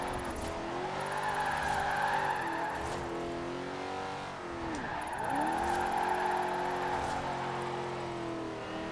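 A modified van drifting in Forza Horizon 4, its engine droning with wavering revs while the tyres squeal through long skids, two sustained slides with a brief dip between them, loud and close throughout.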